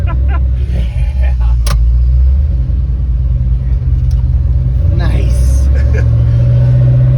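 A supercharged LS V8 car engine revs hard at a rat rod rally, a loud, continuous low rumble that swells and climbs in pitch, with crowd noise and people talking and cheering over it.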